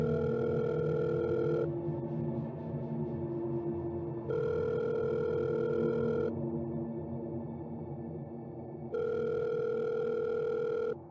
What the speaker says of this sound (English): I slowly pulled my phone out of my pocket, dialed the number, and then lifted the phone to my ear, just waiting for it to connect.